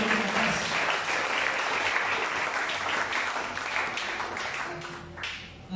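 A church congregation applauds in sustained, dense clapping that fills the space and tapers slightly near the end.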